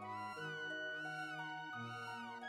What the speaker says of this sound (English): Aw, the kitty cat!